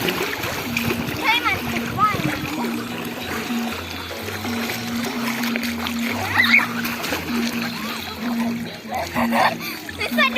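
A beagle puppy splashes and paddles in the water of a flooded rice field, irregular close splashes and sloshing running throughout, with children talking over it.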